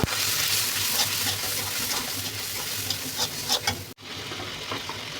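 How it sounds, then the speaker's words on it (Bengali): Chili powder, cumin, coriander powder and ginger-garlic paste frying together in a pan for pulao, a dense close sizzle with stirring scrapes, cutting off abruptly near the end then resuming more quietly. "এবার সবগুলো মশলাকে খুব ভালোভাবে কষিয়ে নেব।"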